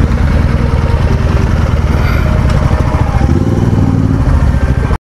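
Royal Enfield motorcycles idle while parking at a roadside dhaba, a loud, steady, close engine rumble with mechanical clatter that runs unbroken for about five seconds before cutting off.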